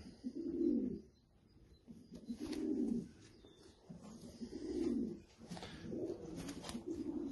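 Racing pigeon, a small hen from a breeding loft, cooing in four or five rhythmic bursts, each swelling and fading with short pauses between, close and clear with no talk.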